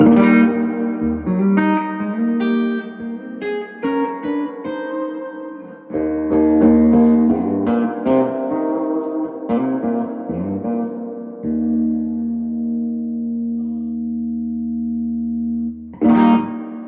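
Electric guitar chords and single notes ring through a Fender blackface Vibrolux Reverb style amplifier with lush reverb, notes sustaining and decaying in a wash of echo.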